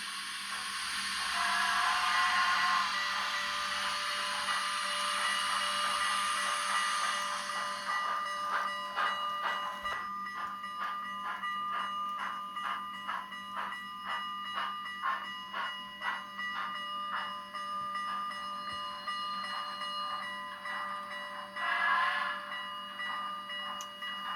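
Sound decoder audio from a Kato N scale GS4 steam locomotive model fitted with an ESU LokSound board: a long steam hiss, then rhythmic chuffing that speeds up, with bell or whistle tones, close and clear.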